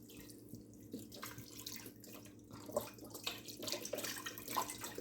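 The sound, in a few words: beef broth being poured into seafood gumbo pot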